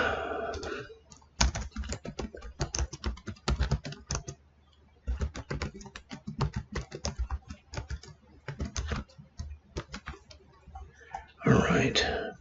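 Code being typed on a computer keyboard in C# programming work, with bursts of close, rapid key clicks separated by short pauses and a voice speaking over part of the typing.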